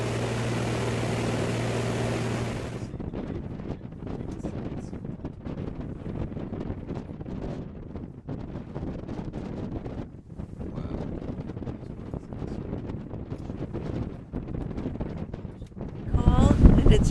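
Steady wind buffeting the microphone outdoors on open Alaska tundra in early fall, a continuous rough rumble that runs the whole time, with a louder gust near the end.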